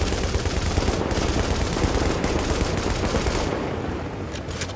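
Sustained rapid automatic gunfire from a shooter video game, a dense continuous rattle of bursts laying down suppressing fire on building windows, loud and close throughout with a brief easing near the end.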